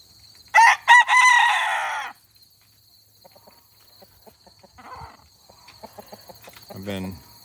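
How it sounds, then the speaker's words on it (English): During a morning rooster battle, a rooster crows loudly and close in a long strained call, followed by quieter clucks, pecking taps and a second crow breaking in toward the end; a voice speaks briefly. "having a rooster battle here this morning"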